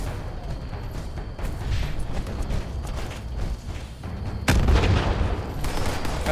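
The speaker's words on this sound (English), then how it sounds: "Oh, they're just chucking grenades" Grenade explosions in Fallout 76 amid combat, rumbling booms and scattered gunfire over steady game noise, with a heavy blast near the end that jumps louder.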